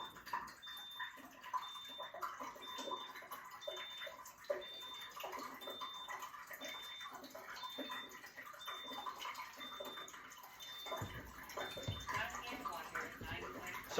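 Water runs and splashes steadily from the spout of a water ionizer machine during its cleaning flush, quiet and continuous, with a slight gurgle toward the end.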